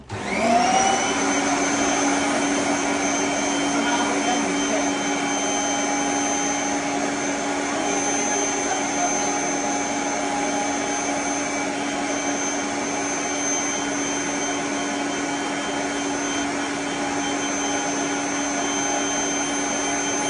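A Kirby heavy duty vacuum cleaner whirs up and runs with a steady, loud motor whine and airy rush, sustained without pause for about twenty seconds.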